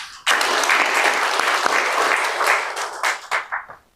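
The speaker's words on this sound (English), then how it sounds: "we want to also appreciate them with a round of applause" Ceremony audience bursts into applause honouring late advocates, dense clapping starting abruptly and holding steady before breaking into scattered final claps that trail off.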